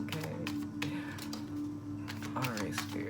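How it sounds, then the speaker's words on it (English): Soft, quick rustling and tapping of tarot cards being shuffled, close by, with a continuous low hum and some faint background noise. "Y'all get to see me shuffle for the first time on camera."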